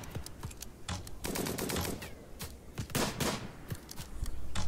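Gunfire in the video game RimWorld: a rapid, uneven barrage of sharp shots and short volleys, dense and fairly loud throughout, with no speech.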